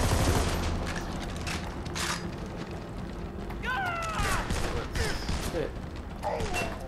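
Gunfire in the video game Army of Two: The 40th Day, bursts of shots with whistling, creaking effects scattered over busy game noise, moderately loud, with players talking at times.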